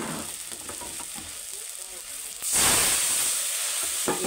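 Spices tipped into a pan of fried tomato and oil for a fish curry sizzle steadily, the hiss surging louder and brighter midway as they hit the hot oil, with faint stirring clicks.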